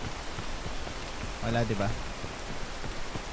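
Rain in the climbing video game Peak patters in a soft, steady hiss under the game's other sounds, while a person speaks briefly over it.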